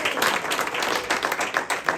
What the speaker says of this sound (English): let's give a round of applause for Meg.